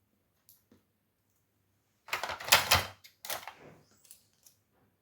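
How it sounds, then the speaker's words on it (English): Strips of tape are pulled off the roll and pressed down over polyester webbing, giving two close, loud ripping tears followed by a few light taps and clicks against an otherwise silent background. "So I'm going to tape the center as well."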